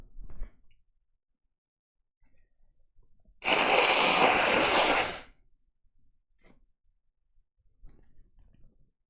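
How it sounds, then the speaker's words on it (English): A person blows their nose once in a loud, broad honking burst lasting about two seconds, surrounded by quiet room sound with faint breaths and small noises before and after. "1 second, I gotta blow my nose."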